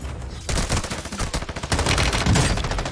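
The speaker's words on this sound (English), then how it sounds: "That was an actual one-on-one gunfight." Rapid bursts of M13 rifle fire crack through a one-on-one gunfight in a shooter video game, dense and loud with a brief quieter gap before sustained volleys resume.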